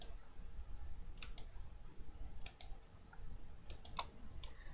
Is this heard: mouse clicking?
yes